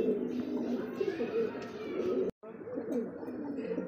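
Giribaz pigeons cooing in a crowded loft, a dense, continuous murmur of many birds close by with no pause except a brief break, and a voice talking over them.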